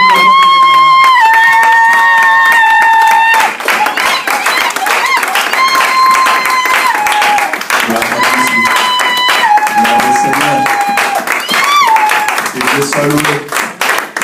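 A church congregation claps and cheers as Brother Jean Chéri comes forward. The applause is loud and sustained under prominent sung and amplified music.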